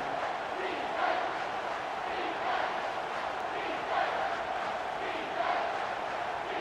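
A simulated stadium crowd in the College Football 25 video game roars behind the defense during a red-zone stand in a Georgia Tech at Texas matchup. The crowd noise is steady and distant, swelling rhythmically in repeated chant-like pulses.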